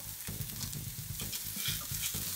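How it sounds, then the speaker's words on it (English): Onions stir frying in a pan for a tofu mushroom noodle stir fry, a loud close sizzle with rhythmic scraping and tossing strokes that repeat several times. "Time to stir fry. Throw in your onions."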